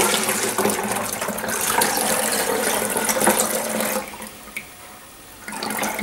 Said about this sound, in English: I'm just gonna probably fill in a little bit more than half of this bottle